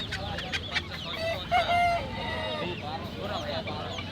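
Chickens cluck and a rooster crows at the Tongi poultry market, where silkie chickens are sold; several close calls overlap in a busy, noisy stall with faint voices in the background.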